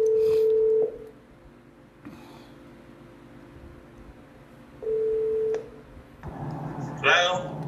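Steady telephone tones sound on a call line, a long tone at the start and another a few seconds later, with faint background noise and a burst of voices at the end.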